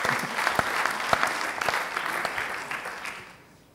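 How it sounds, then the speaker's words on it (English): Audience applause at a talk on valuing natural capital, a steady burst of clapping from a seated crowd that fades out near the end. "A round of applause also for doing that in 3 minutes."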